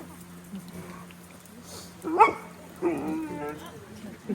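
A sled dog at the Denali National Park kennels gives a couple of short, close barks with a whimpering edge, standing out over a quiet background.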